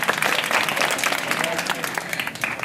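An audience claps after a performance at a district-level student talent search event, steady, fairly full clapping of moderate loudness that carries on throughout.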